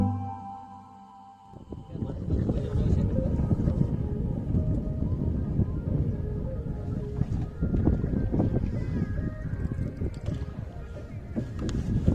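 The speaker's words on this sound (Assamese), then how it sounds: "নাও চলাই আছে" A rowing boat crosses Dheer Beel, a large wetland lake in Kokrajhar, with steady broadband water and wind rumble close to the microphone, near-continuous after a quiet opening second.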